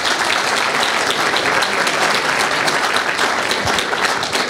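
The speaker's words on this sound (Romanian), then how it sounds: "vreau să le oferim o mână de aplauză tuturor voluntarilor de la echipa care a făcut evenimentul acesta posibil" An audience at an urban mobility debate applauds the event volunteers, a dense, continuous burst of clapping from many hands that holds steady for several seconds.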